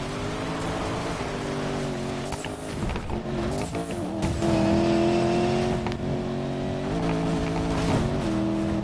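A Porsche off-road four-wheel-drive car in the Need for Speed Payback video game: a steady engine drone with gear shifts and revs that rise and dip, continuous and fairly loud, with no talking.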